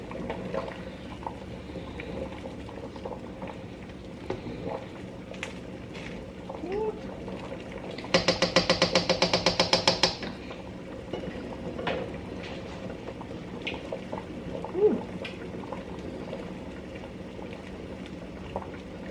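A stove top pot for a shrimp boil bubbles steadily while being stirred, with a sharp rattling scrape of the spoon midway, over a low burbling boil; a person speaks nearby at times.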